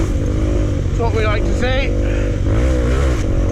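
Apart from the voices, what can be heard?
motorcycle engine revving hard on a green lane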